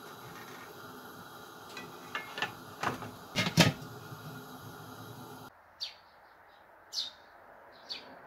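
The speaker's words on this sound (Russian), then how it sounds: "Птички чирикают." Birds chirp outdoors in a village, with scattered short tweets, some sharp and close, against a quiet background, interrupted by a few louder knocks and clatters.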